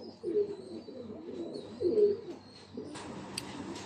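A golden breeder pair of pigeons kept for sale in Faisalabad coos softly at close range, with two low rolling coos a second or so apart and faint background hum.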